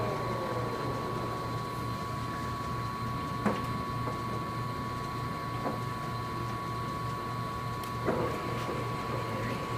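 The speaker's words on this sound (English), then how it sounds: "Do a couple more spindle changes and I guess we're done." A large hollow spindle engine lathe, 31.5 by 118 inches, running with a steady motor hum and tonal whine, with a few sharp clunks of gear shifting as the spindle speed is changed. No voices are heard.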